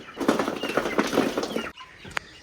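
Pigeons released from above, a rapid flurry of flapping wings close by for over a second, then a brief quiet with a faint sharp sound.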